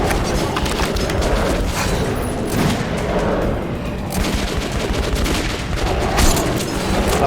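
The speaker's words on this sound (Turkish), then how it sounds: "Oğlum herkes bana vuruyor ya." Dense gunfire in the game Metro 2033 Redux, loud bursts of shots and booming impacts crowding one another in a relentless close-range fusillade, with no speech over it.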